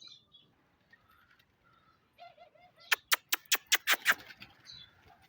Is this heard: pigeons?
yes